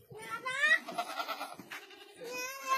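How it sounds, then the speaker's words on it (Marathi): A Morkani breed goat bleats close by in two drawn-out, wavering calls, with soft farmyard noise in between. "ही जी काही शेळी आहे मोरकानी"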